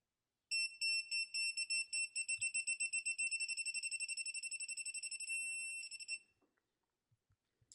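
A rapid series of high-pitched electronic beeps from a 3/8-inch drive GOYOJO digital torque wrench that quicken into a steady tone, then stop, followed by faint clicks and handling noises.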